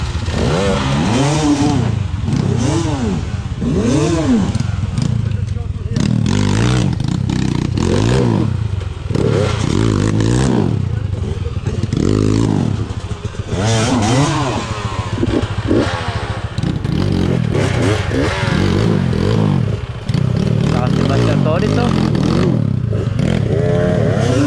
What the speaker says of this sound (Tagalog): Ma-survey na bakit nag-iiyakan ng mga motor.